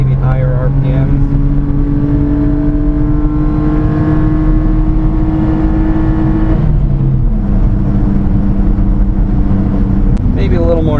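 A mini-truck engine with its exhaust cut off revs at high RPM, a loud steady drone with rising and falling harmonic pitch, close by and continuous throughout.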